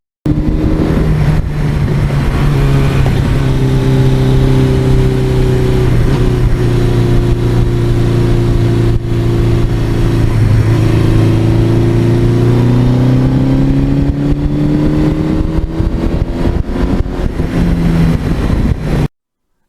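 A 1982 Suzuki GS1100E motorcycle engine with stock exhaust runs steadily at close range, its mellow, muffled exhaust note rising and falling through gentle revs with no talking.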